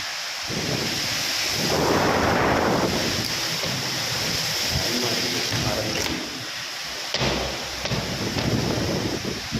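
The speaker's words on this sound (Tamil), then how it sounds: "அவ்வளோ ஒரு காற்று இருக்குது, காற்று மழையுமா" Strong wind and heavy rain in a storm in Karaikudi, a dense continuous roar of gusting wind and pouring rain with rumbling buffeting, loud and unbroken throughout.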